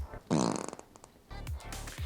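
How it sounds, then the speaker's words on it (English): A fart, a short rasping burst followed by quieter sputters and a couple of low blurts, fairly faint and close, with no talk. "dusting away a fart after you blow it out your ass"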